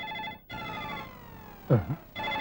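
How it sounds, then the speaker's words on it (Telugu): A phone rings with a tonal electronic chime, pausing briefly between bursts, while a voice speaks over it in a Telugu comedy film scene. "ఫోన్ రింగ్ అవుతుంది అక్కడ"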